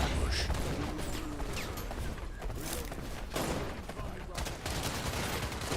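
Dense gunfire from an ambush in the video game Wild Assault: continuous overlapping shots and bursts, loud and close, with crashing impacts throughout and no break in the barrage.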